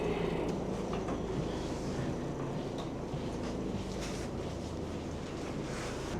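A small carriage on Denmark's Nærumbanen railway rumbles steadily along the tracks, with a constant low roar and faint rattling, heard from inside.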